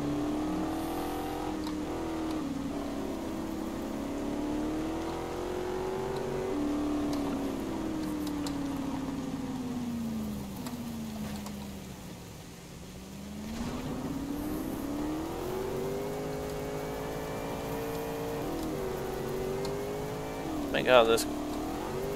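A car engine in the video game DayZ revs hard toward redline, its pitch climbing, dipping and rising again in long sustained sweeps for over twenty seconds, with a voice speaking briefly near the end.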